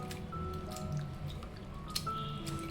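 Flattened rice (poha) is rinsed in a bowl of water, giving soft close drips, trickles and wet squishing sounds throughout, with no talking.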